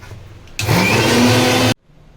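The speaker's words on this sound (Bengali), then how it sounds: "আমি আবার এখন ব্লেন্ড করবো। একটু জল দিয়ে দেবো যাতে জিনিসটা ভালো করে ব্লেন্ড হয়ে যায়।" A blender whirring through green chutney with added water: one loud, close burst of about a second that starts and cuts off abruptly, with a quiet room before and after.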